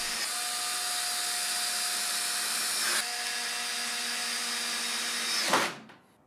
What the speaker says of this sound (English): The screws went in once again in the order specified in the instructions.